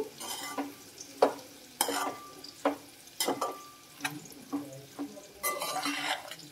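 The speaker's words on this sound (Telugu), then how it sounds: "ఇంకా ఫ్రై అవ్వాలండి, ఇంకా కొంచెం ఫ్రై అవ్వాలి" Shark puttu curry frying and being stirred in a pan, with sharp scraping stirs recurring every second or so over a soft ongoing sizzle, close and fairly quiet.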